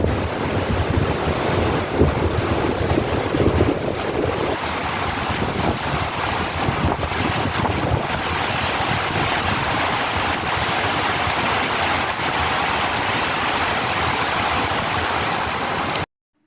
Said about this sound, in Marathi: पाणी बघा कसं पडू राहिलं हे